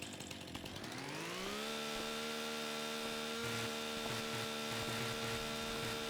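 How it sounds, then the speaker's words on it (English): A chainsaw in Farming Simulator 25 revs up from idle and then holds a steady, buzzing whine while cutting trees, close and continuous, with no voices. "I think I'm going to try to do it with the chainsaw"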